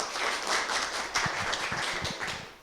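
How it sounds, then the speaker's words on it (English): A small audience claps after a group presentation on renewable energy, with a short burst of scattered, fairly close hand claps lasting a couple of seconds. "Let's give an applause"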